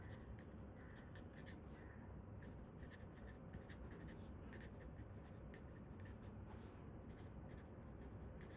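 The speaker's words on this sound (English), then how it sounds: "So I'm writing it before you get to know about it." A pen writing on paper at close range, busy scratchy strokes in quick irregular bursts over a constant low background hum.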